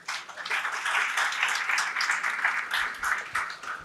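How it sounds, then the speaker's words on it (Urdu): Audience applause at a university gathering, a dense sustained wash of many hands clapping steadily for several seconds, loud and close with no speech over it. "تو آپ لوگ اپنے لیے ایک بار تالیاں بجا دیں"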